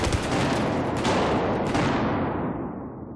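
Gunfire in Battlefield 4 close-quarters conquest, loud dense bursts of shots blending into a heavy continuous barrage that tails off at the end.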